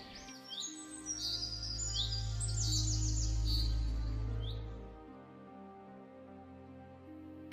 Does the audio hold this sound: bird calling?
yes